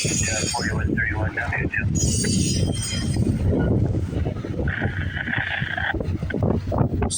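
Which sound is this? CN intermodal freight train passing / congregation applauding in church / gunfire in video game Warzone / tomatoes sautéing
CN intermodal freight train passing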